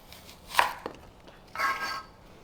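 A knife slicing an onion in half on a cutting board, a crisp cut with a knock of the blade on the board, then a longer slicing stroke, close and clear with no voices.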